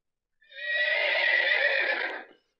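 A horse whinnies loudly and close by in one sustained, wavering neigh lasting about two seconds, with nothing else heard around it.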